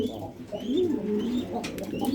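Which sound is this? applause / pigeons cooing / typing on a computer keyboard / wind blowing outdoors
pigeons cooing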